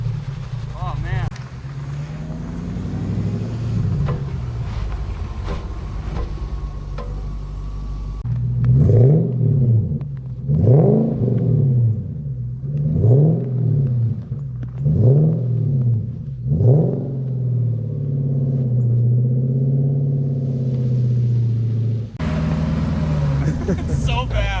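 A supercharged manual Lexus GS400 engine revs repeatedly in snow, five rising-and-falling bursts in a steady rhythm as it struggles for traction, close and loud with a person talking over parts of it.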